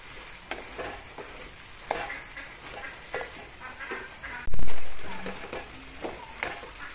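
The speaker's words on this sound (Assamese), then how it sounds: "মই আৰু 5 মিনিটমান সময় কম জুইত এনেকৈ ভাজিম" Chicken curry with banana and potato frying gently over low heat, a soft continuous sizzle with scraping stirs and clinks of a utensil against the pan, one louder knock midway, close and steady.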